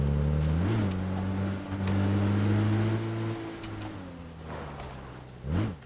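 A video game car engine hums steadily and shifts pitch as it revs up and eases off, close and continuous for several seconds.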